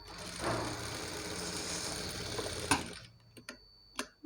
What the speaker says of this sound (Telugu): దీనికి ఒక కుట్టు వేసేయాలి.